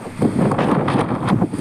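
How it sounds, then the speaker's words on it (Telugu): Strong desert wind gusts buffet the microphone in a harsh, roaring rush that surges and fades in waves, carrying blowing dust, with no voices present. "చూడండి ఎలా దుమ్ము గాలి వస్తుందో. చాలా భయంకరమైన గాలి"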